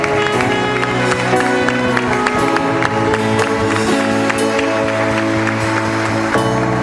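A church congregation applauds at a Catholic Rebanhão gathering, sustained clapping blended with loud instrumental music that carries on underneath throughout.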